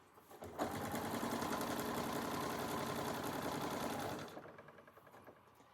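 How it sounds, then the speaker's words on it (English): A sewing machine stitching quilt block pieces, chain-sewing from one piece straight onto the next, running in a steady close whir for about three and a half seconds before stopping, no talking. "just continue sewing from the first one right on to the second one"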